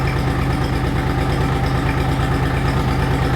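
A truck cab engine runs steadily with its revs raised to about 900 rpm, a close, even, low mechanical drone with a regular pulsing rhythm and no speech.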